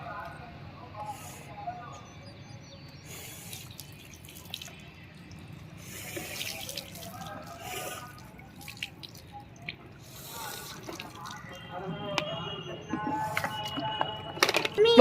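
Water splashes and drips from a jug being tipped out onto the ground during outdoor Holi play, with uneven spills and trickles under the chatter of children and adults talking throughout.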